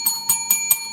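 A bright bell rings four times in an even rhythm, each strike sharp and loud with a sustained metallic tone ringing between hits.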